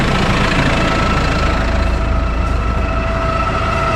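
A Kubota M6 131 tractor idles close by while hitched to a mower for cutting hay, giving a loud, steady, low diesel rumble that holds an even tone throughout with no talking.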